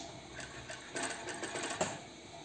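A sewing machine stitches fabric for a beach bikini brief in short bursts, a quiet rapid mechanical clatter that starts and stops, with no voices.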